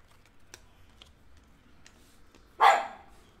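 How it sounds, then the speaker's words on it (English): A dog barks once outdoors, a single brief and fairly loud yelp-like bark, following a few quiet keyboard-like clicks and taps in an otherwise quiet room. "You hear a dog outside."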